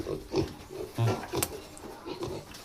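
Healthy piglets grunt and oink in short, close bursts, several overlapping snorts in quick succession at moderate loudness.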